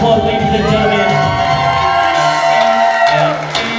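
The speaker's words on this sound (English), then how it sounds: "Let's get a nice round of applause for our beautiful bridal party over here." Wedding reception guests cheer and whoop for the bridal party, a loud, close crowd roar full of shouts and high voices over a steady musical drone, fading slightly at the end.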